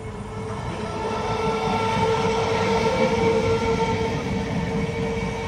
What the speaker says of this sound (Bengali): একজন ট্রেন দেখার জন্য বেরিয়ে পড়েছে।